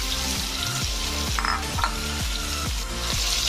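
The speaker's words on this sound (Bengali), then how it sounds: "ওই তেলের মধ্যেই আমি আলু দিয়ে দেব" Potato pieces sizzle in hot oil left over from frying pumpkin, a steady close crackle with a regular scraping, ratchet-like rhythm of stirring repeating about every half second.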